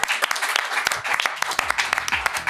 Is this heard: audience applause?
yes